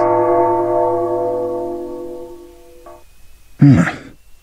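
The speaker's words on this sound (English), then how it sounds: "It's that bell again. We heard the bell too." A sustained bell tone from the video game Persona Q rings out with long harmonic overtones, slowly fading over several seconds before being cut off, followed by a brief voice-like sound.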